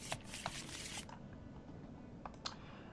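A quick burst of card shuffling in a video game, a few sharp riffling clicks up front followed by a couple of lighter taps, fairly quiet.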